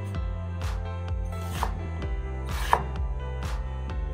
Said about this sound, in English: Now we need to cut this very finely